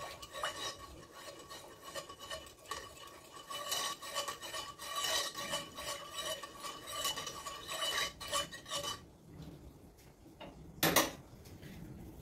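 A spoon stirs maja blanca mixture with pumpkin in a pot, giving a steady scraping and clinking that runs continuously, with a louder knock near the end.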